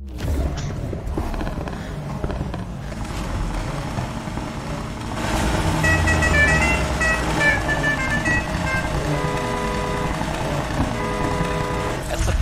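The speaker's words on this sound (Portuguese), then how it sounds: "Essa buzina é a melhor, né?" Car horn honks ring out in Need for Speed Heat during an online race at a container yard, several tonal blasts over a rumbling engine and creaking mechanical noise, loud and close.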